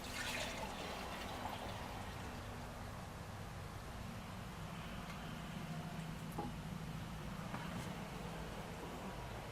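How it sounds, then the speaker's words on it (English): Water is poured into a container while mixing acid stain for concrete benches. It makes a soft, steady trickling pour that runs continuously and stays fairly faint. "we're gonna pour our water in there"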